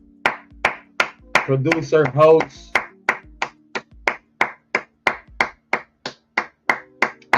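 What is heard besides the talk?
hands clapping, round of applause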